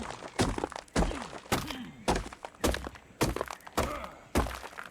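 Eight evenly spaced, heavy thunking hits on stone rocks in the video game ARK, repeating about every half second, each one punchy and close with a short rumbling tail.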